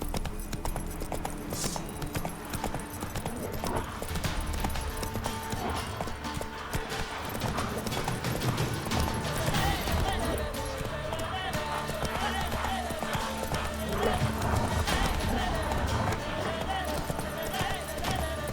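Hooves of the horse Roach pound in a steady galloping clip-clop in The Witcher 3, loud and continuous, with voices talking over it.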